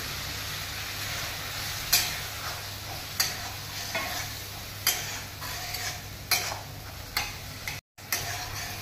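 Fried potato and salt-boiled peas for ghugni being stirred in a sizzling pan, a soft continuous fry under regular sharp clicks of a spoon knocking the pan roughly every second, close and quiet, no speech.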